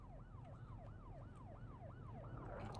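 A wailing ambulance siren in Project Zomboid sweeps up and down in a fast repeating cycle, steady and moderately loud over a low engine rumble.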